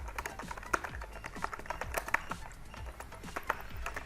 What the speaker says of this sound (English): Property name, again I'm typing my website name.